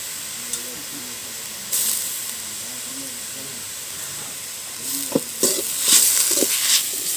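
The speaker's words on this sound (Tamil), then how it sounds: "ஆமாம், இதெல்லாம் வதக்கிடலாம்" Curry leaves sautéing in a pan for a village-style chutney, a steady soft hiss and sizzle with occasional stirring scrapes near the end, while a voice talks over it.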